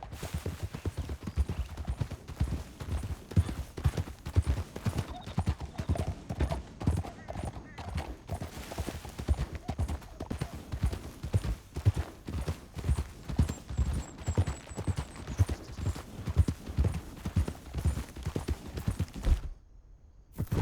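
Rapid, rhythmic hoofbeats of horses galloping in the video game Red Dead Redemption 2 clip-clop continuously for a long stretch, loud and close, with a brief drop-off at the very end.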